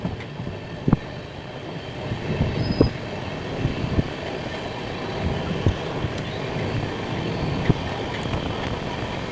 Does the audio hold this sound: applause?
no